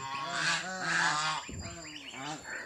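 Bengal geese honk repeatedly at close range, loud nasal calls in quick, overlapping bursts from what sounds like several birds.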